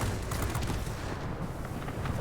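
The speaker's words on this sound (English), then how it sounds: "Let's go ahead and get this 37mm cannon doing some heavy lifting here." Rapid 37mm aircraft cannon fire in World of Warplanes, a steady dense stream of heavy shots filling the whole moment, loud and close with rumbling low end and no talk.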